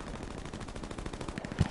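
Rapid video-game gunfire, a burst of fast crackling shots at moderate distance ending in one louder thump, with no talking.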